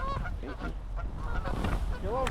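Geese honk repeatedly in a Minnesota goose hunting field, rising and falling calls overlapping one another at moderate distance, with faint voices and background noise underneath.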